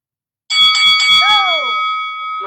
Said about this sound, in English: You got 5 seconds and the bell will ring.